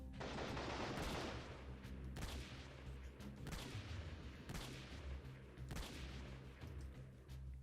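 Gunfire in the PC game Freeman Guerrilla Warfare: rapid, repeated shots and bursts that roll continuously through the whole stretch, dense and reverberant at low overall level, with no talking over it.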